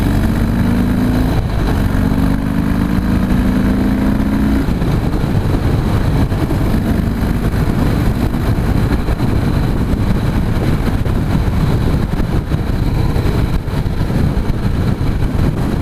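2016 Harley-Davidson CVO Pro Street Breakout V-twin engine on a test ride, a steady loud low rumble throughout with wind noise, the engine note rising briefly near the start.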